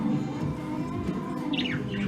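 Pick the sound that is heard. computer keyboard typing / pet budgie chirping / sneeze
pet budgie chirping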